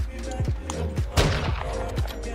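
Rapid bursts of gunfire hit a player's armor shield during a Warzone 2 firefight, sharp repeated cracks close by with a dense loud volley midway, under faint game noise.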